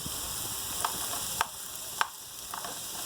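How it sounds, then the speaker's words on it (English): Steady close sizzle of garden zucchini frying in a pan, punctuated by a few sharp clicks and scrapes of a utensil against the pan. "So, I'm going to add my zucchini."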